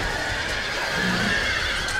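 Cavalry horses neigh and whinny amid a game battle in Empire: Total War, with hooves clopping beneath a dense, steady wash of combat noise; the whinny rises clearly near the middle.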